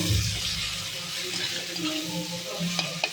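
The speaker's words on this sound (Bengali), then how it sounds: "এখন জল একটু জল দিতে হবে" Water is poured into a pan of cooked-down tomato spice mix for cabbage curry, giving a steady splashing, sizzling wash that fills the short stretch, with a clink near the end.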